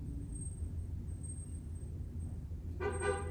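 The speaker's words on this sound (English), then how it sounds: "I hear that little bit of honking outside." A car horn honks briefly outside near the end, a faint toot rising over a steady low background rumble.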